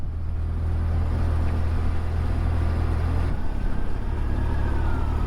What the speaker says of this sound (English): We've got a bus in front now.